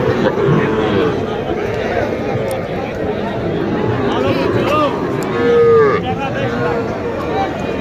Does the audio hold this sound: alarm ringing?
no